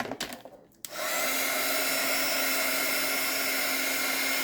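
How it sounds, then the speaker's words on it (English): A heat gun blasts hot air over paint on a craft collage, starting after a brief quieter moment and then holding a steady, loud, close whooshing roar to the end. "now I'm going to hit that with the heat gun for just a second"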